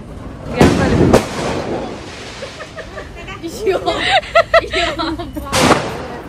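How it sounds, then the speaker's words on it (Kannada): Several sharp firecracker bangs go off during a Diwali celebration, two loud blasts early and another later, with a quick string of pops in between and people talking and laughing throughout. "ಅವ್ರು ನೋಡಿ ಅಲ್ಲಿ ಅಲ್ಲೇನೋ ಪಟಾಕಿ ಇಟ್ಟು ಬಂದಿರೋದು"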